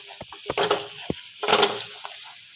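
Chili and coriander powder paste, mixed in water, stirred into a pan of simmering fish curry, giving short bursts of wet sizzling and scraping at a close distance, with brief clinks between strokes.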